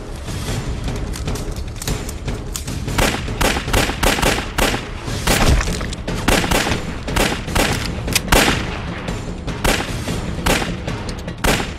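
Gunfire rings out in a battle scene from a war film, dense and rapid shots cracking in quick irregular bursts with heavier booms mixed in, loud and sustained throughout.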